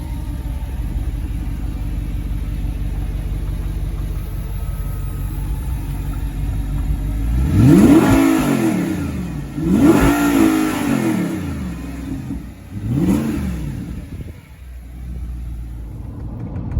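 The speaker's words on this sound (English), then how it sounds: "We're gonna lift up the active rear spoiler and hear the car." An Audi R8 revs hard from the rear with the active spoiler raised, three loud rising-and-falling engine blips after a steady idle rumble, heard alone without talk.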